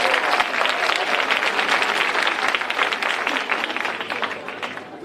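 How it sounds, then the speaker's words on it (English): Audience in a high school assembly applauding incoming ninth graders, dense steady clapping from many hands that tapers slightly toward the end. "Let's give them a round of applause."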